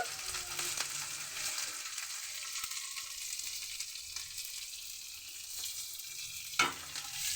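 Capsicum fries with curry leaves in a frying pan, a soft, steady sizzle with light crackling and one sharp pop near the end, heard faintly and alone.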